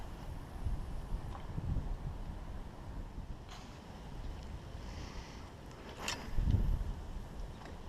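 Strong wind gusts buffet the microphone on a lake bank while fishing, a low rumbling roar swelling and easing, with a harder burst near the end.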